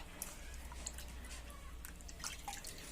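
A wax-coated egg rinsed under a running tap, giving a steady faint trickle and patter of water with small drips, close and continuous, with no talking.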